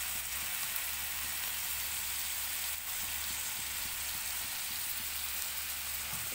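Vegetables fry in a pan with vinegar and soy sauce, giving a steady, even sizzling hiss close by, with no talking over it.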